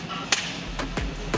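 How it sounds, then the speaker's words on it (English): A leather belt is snapped like a whip four times in quick, uneven succession, each a sharp, loud crack standing alone. "I have a sound that I love to make with belts"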